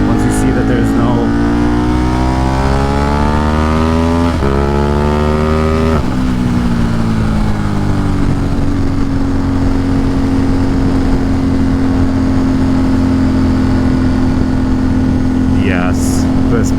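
Motorcycle engine on a fast forest ride upstate, loud and close, revving steadily with pitch climbing then dropping as gears shift down from third to second, followed by a sustained drone; wind noise throughout.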